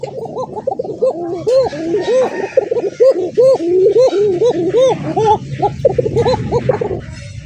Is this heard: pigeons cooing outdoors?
yes